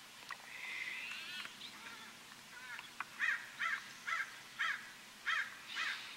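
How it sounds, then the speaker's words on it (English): A crow caws near an eagle nest at Lake Casitas, giving about six evenly spaced harsh calls over faint outdoor background noise, preceded by softer calls. "here comes the crow"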